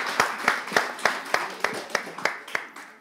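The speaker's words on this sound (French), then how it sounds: "On l'applaudit." Audience applause at a live French show, heard as about a dozen evenly spaced, sharp hand claps, moderately loud and steady, like a small crowd clapping in rhythm.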